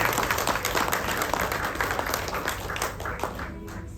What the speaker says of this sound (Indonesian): Tepuk tangannya kembali buat Martin sama Loren boleh